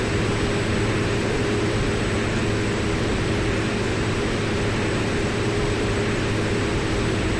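Pilatus PC-12 turboprop cruising in the X-Plane 11 flight simulator over Southern California on a windy day, a constant, loud cabin drone with an even, rushing hum and no pauses.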